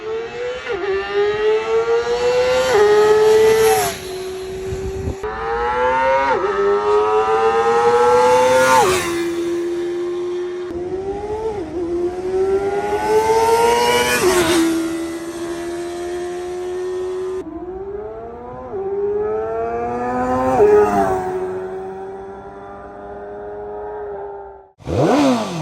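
A 2025 Kove 450RR motorcycle engine revs hard and repeatedly, climbing through gears to a high-pitched scream near its soft limiter, dropping back between pulls, loud and close.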